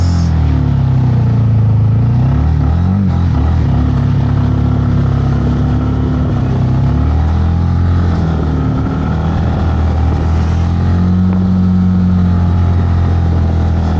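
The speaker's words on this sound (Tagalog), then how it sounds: "Engine roar." A Honda Winner X 150 motorcycle engine hums and revs steadily up close, a continuous drone with shifting pitch from start to finish.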